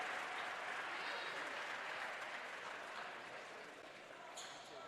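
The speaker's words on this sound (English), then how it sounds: "Crowd's beginning to get into it here at the Fred DeLay." Basketball crowd at a women's college game at the Fred DeLay gym, a broad steady wash of cheering and applause that holds throughout and fades slightly toward the end, with no clear talk over it.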